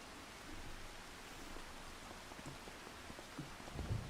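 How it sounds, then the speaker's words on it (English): Steady rainfall in the Farming Simulator 25 farming game, a soft continuous hiss of drops on surfaces, faint and even throughout with a slight thump near the end. "Alright, so a little bit of morning rain."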